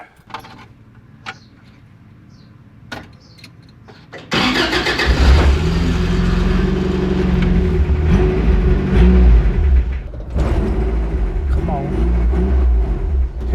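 An old car left for 20 years in a junkyard cranks and catches, its engine roaring to life and settling into a loud, rough, steady run with revs rising and dipping. Faint clicks and rustles precede the start; no talk is heard.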